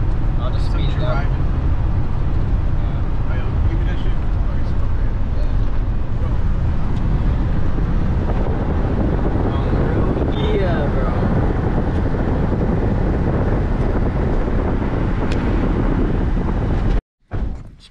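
A car driving along a road, heard from inside with a steady low rumble and wind buffeting, voices talking over it, the sound cutting out abruptly near the end.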